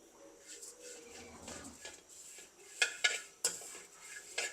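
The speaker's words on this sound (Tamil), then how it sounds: "நான் இந்த கூனியை நான் இப்போ வறுக்க போகிறேன்" Dried baby prawns being dry-roasted and stirred in a pan, heard as quiet scraping and clinking of a spoon against metal, with a few sharper knocks toward the end. Faint background sounds are also present.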